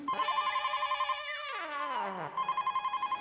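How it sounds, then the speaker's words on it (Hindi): An electronic phone ringer trills in rapid pulsing bursts, broken briefly by a sliding, falling tone before the ringing resumes, loud and close. "सेठ जी, अंदर फोन की घंटी बज रही है।"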